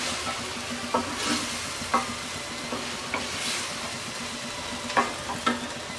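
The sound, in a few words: chickpea chaat being stirred and cooked on low heat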